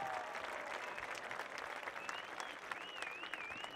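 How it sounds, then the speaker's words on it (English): Faint, distant applause from an audience at a junior high school promotion ceremony, a steady wash of clapping with a thin whistle-like tone rising above it. "give yourselves a big round of applause"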